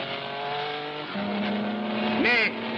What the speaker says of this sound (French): Lee Leonard paraît attaquer maintenant la première voiture et essaie de la passer.